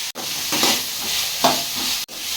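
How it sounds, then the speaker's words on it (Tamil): Tomatoes, onions, radish, dried red chillies and garlic sautéing in a pan for chutney, giving a soft continuous sizzle with a few gentle stirring scrapes close by. "3 தக்காளி 3 வெங்காயம் 2 முள்ளங்கி வெட்டி போட்டிருக்கோம். அதை நல்லா வதக்கலாம்."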